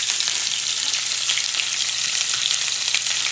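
Vegetables for steak fajitas sizzle loudly and continuously in hot oil, a dense crackling hiss filling the whole moment with no voices.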